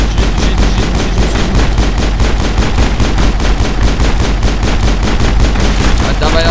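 Sustained, loud rapid-fire gunfire in the video game Mass Effect, a steady rattle of shots throughout with a voice briefly audible near the end.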